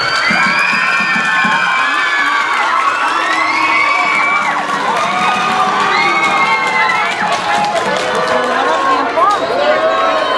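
A large crowd at the 2013 Mojiganga festival in Tepalcingo, Mexico, cheers loudly and continuously during a queen contest. Shrill shouts and whoops rise over the constant roar, with some clapping mixed in.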